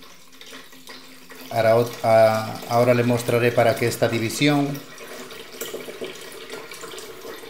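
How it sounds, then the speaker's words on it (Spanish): Water pours into a divided glass betta fish tank, a soft continuous trickle and splash under someone speaking in the middle, clearer when he pauses. "vamos a rellenar la pecera con agua. Miren cómo va pasando hacia el otro lado."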